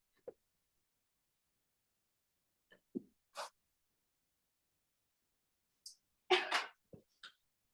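A single sharp sneeze bursts out near the end, preceded by a few small sniffs and clicks in otherwise quiet surroundings.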